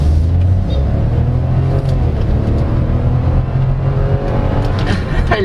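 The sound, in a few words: 2022 Chevrolet Tracker LT Redline engine revving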